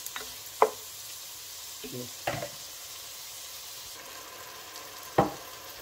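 Pancit molo cooking in a pan, with a faint background sizzle of frying broken by a few sharp clinks and scrapes of stirring.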